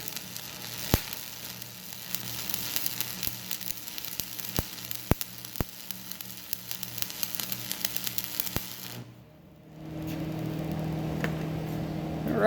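A stick welding arc at about 150 amps crackling and spattering with a steady sizzle and sharp pops for several seconds, then cutting off into a quieter hum.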